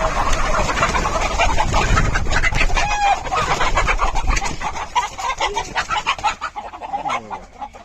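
Native country chickens on a farm cluck loudly and steadily close by, with a dense chorus of hens, pigeon-like cooing and a rooster crowing now and then.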